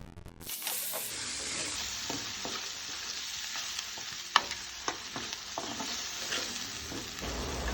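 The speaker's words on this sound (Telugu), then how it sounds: "మిర్చి, అల్లం వెల్లుల్లి పేస్ట్ వేగిన తర్వాత బఠానీలు వేసుకోవాలి." Peas dropped into green chilli and ginger-garlic paste frying for paneer matar curry, producing a sudden hiss that settles into a steady close sizzle, with occasional clicks of a spoon stirring the pan.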